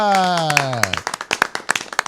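On a talk show, a loud falling vocal cheer greets guest Matt Hasselbeck, then gives way to a run of sharp, uneven hand claps, close and fairly loud.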